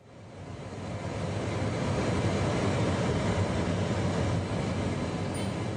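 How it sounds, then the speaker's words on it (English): A private jet's engines roar steadily, a broad constant rush that swells over the first second and then holds loud and even, with no voices. "This is the sound of a private jet."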